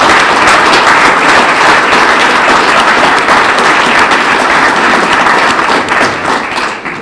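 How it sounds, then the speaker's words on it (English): Sustained applause from an audience at an annual meeting of an economic development organization, a dense, steady wash of many hands clapping that carries on for several seconds and eases slightly at the end, with no talking over it. "Join me in a round of applause for Derek's hard"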